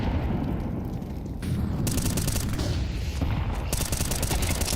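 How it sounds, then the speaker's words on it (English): Rapid M4 rifle fire in Counter-Strike 2 during a competitive esports match, dense and continuous with sharp bursts over a loud, crowded background rumble. "Donk let loose in the middle with the M4 this time"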